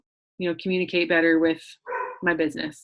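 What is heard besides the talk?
dog barking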